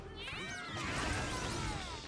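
Cartoonish cat meows and yowls in the video game Mewgenics, several overlapping cries sweeping up and down, up close and fairly quiet.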